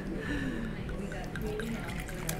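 Old Vine Zinfandel from PRIE Winery & Vineyards trickles and gurgles softly into a glass, a close liquid pour running under faint background voices.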